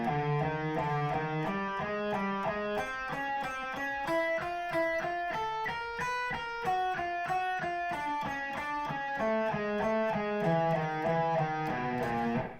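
Electric guitar playing an alternate picking exercise with a one-two fingering pattern moving across the strings, a steady stream of evenly picked single notes stepping up and down in pitch, alone and clearly audible throughout.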